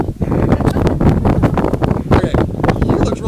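Strong wind on a mountaintop buffets the microphone with loud, gusty rumbling and roaring that never lets up.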